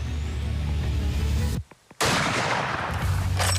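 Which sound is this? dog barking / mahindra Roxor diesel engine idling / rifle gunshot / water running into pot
rifle gunshot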